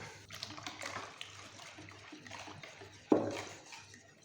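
About 600 ml of boiling water is poured into milky crepe batter in a home kitchen, a soft, quiet trickle with a louder splash partway through.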